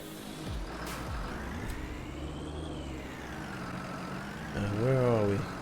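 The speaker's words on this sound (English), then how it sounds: "We'll start the engine." Tractor engine in Farming Simulator 19 idling and then revving up near the end, a steady mid-pitched hum with rising harmonic whine, under some talk.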